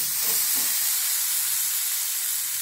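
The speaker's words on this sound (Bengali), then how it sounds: "এর সঙ্গে আমি আলুগুলো যে ভেজে রেখেছিলাম সেগুলো দিয়ে দিলাম। এটা আমি দু মিনিট আলুর সঙ্গে ভেজে নেব।" Soya chunks frying with previously fried potatoes produce a steady, fairly loud hiss of hot oil, with a couple of faint stirring knocks near the start.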